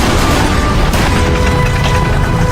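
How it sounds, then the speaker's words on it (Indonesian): Soldiers firing on the monster Godzilla in a film battle scene: loud, dense bursts of gunfire and booming blasts fill the whole stretch without pause. "Sempat ditembakkan beberapa kali"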